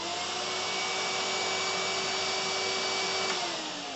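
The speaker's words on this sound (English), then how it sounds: "If I turn this to 1, it should turn the hoover on" A hoover vacuum cleaner running steadily after being switched on from a workbench switch, a loud, constant close-up whine and roar with a motor tone that shifts slightly near the end.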